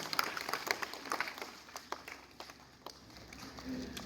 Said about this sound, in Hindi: उनके बारे में एक बार जोर से तालियां बजाएं